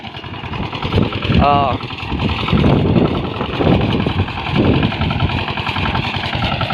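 A tractor engine runs steadily nearby with a coarse, rhythmic mechanical chug while a person talks over it briefly.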